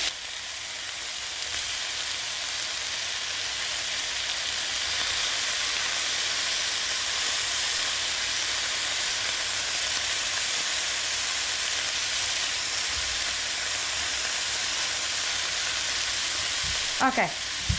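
Ground pork browns in a hot pan for a stir fry, giving a steady, loud broadband sizzle that runs unbroken throughout, with a brief clatter near the end.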